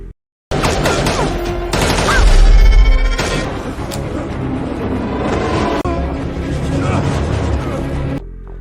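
Gunfire in a monster movie rings out as soldiers fire uselessly at fast, bulletproof creatures. Dense, continuous volleys of shots crash and boom loudly, mixed with impacts, and carry on for several seconds with no break.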